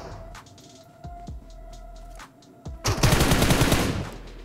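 Rapid bursts of automatic gunfire from PUBG Mobile's Metro Royale mode, first sparse single shots and clicks, then a loud sustained volley of rattling fire near the end.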